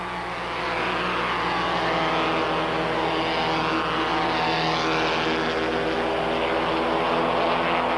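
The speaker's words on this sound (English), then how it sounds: "Inside Case Neerop's Porsche, we're chasing you, Richard, for second place." Porsche 944 race car engine at full song during a 1986 Canadian Rothmans Porsche 944 series race, a loud sustained droning roar with steady harmonic tone, heard continuously from an onboard position.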